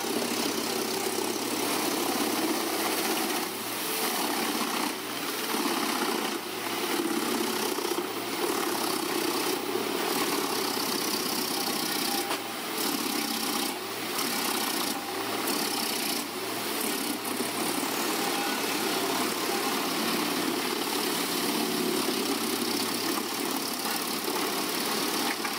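Engine of a Comptech Chipo 8010C wood chipper driven by a CAT engine while processing tree trunks, a steady loud mechanical drone with recurring bursts of grinding and chipping noise throughout, no voices.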